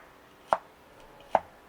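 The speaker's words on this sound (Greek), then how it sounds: "Τα τεμαχίζουμε σε ροδέλες μαζί με το πράσινο μέρος." A knife cuts fresh spring onions into rings, green parts included, on a board, giving two sharp, well-spaced chops close by in a quiet room, with no speech.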